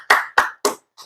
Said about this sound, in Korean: 우리 하나님 앞에 감사와 영광의 박수 올려드립니다